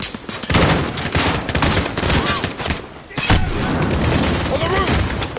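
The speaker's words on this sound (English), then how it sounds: "how many times have I got to shoot you?" Heavy, sustained gunfire from Modern Warfare's campaign, with dense overlapping bursts and booms filling the whole stretch and only a brief lull midway, while voices call out over the shooting.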